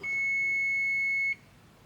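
A multimeter beeps during a continuity test on a secondary-side diode of a Daikin FTY18GV1B air conditioner control board, as the capacitor charges. One steady, fairly loud electronic tone sounds alone for just over a second and then stops abruptly.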